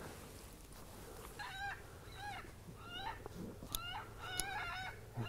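Bird calls from an electronic predator caller during a night coyote hunt, a series of rising squawking cries repeated about six times over steady background hiss.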